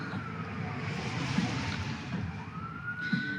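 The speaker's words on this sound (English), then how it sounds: "Just let that siren go." A siren wails in the distance along a main road, its tone rising and sliding, fairly faint over a steady background hum of traffic.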